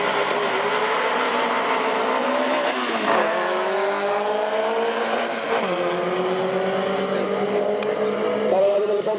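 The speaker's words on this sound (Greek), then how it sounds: "Προσέξτε το ρεμιδάκι, αυτό έχει 2 μοτέρ, ένα μπροστά, ένα πίσω, κίνηση και στις 4 ρόδες." A drag racing car with two motors, one front and one rear, and four-wheel drive runs loudly and steadily, its engine tones stepping up through rising pitch sweeps, with crowd noise in the background.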